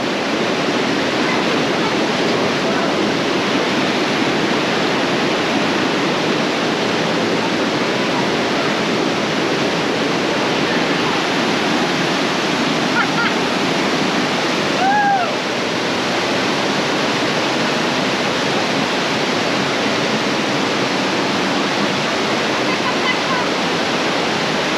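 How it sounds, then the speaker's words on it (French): Water rushing steadily throughout as someone wades knee-deep across a cold river in volcanic Cappadocia, Turkey, a broad close wash of flow with a brief faint whistle-like tone midway. "Là on traverse une rivière."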